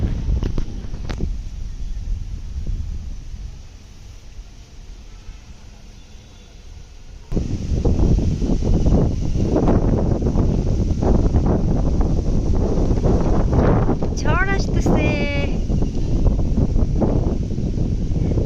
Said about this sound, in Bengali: একদম ঝোড়ো হাওয়া চারপাশে শো শো শব্দ কি যে ভালো লাগছে